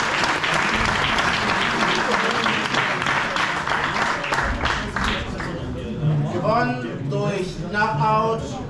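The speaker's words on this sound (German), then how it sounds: "Einmal einen tosenden Applaus." Thunderous applause from the crowd at a Hanseatic Championship combat sports event, loud and dense with cheering, fading slightly as an announcer's amplified voice takes over toward the end.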